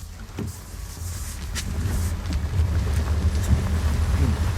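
A 2023 Nissan X-Trail in B range rolls down an off-road slope after the brake is released, a low rumble of tyres and road noise building steadily louder, with light wind buffeting and faint knocks.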